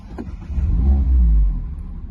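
A Mazda MX-5 with a 1.5 Skyactiv-G engine, push-button started with the clutch dipped: a short starter churn, then a close, deep rev flare that rises and settles into a steady idle.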